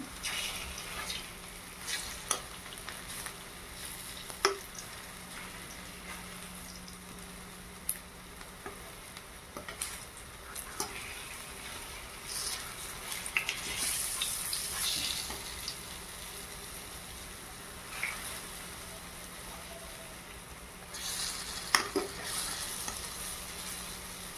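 Jackfruit koftas with onion and garlic frying in oil in a wok, a soft continuous sizzle with occasional sharp clinks and scrapes as they are turned, quiet and close with no voices.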